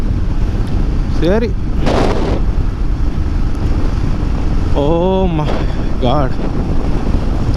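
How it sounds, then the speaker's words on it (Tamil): Strong wind buffeting a microphone on a rural road near Amaravathi, Andhra Pradesh, a constant loud roar throughout, with someone speaking Tamil in short bursts over it. "காற்று வர செம்மையாக அடிக்குதே."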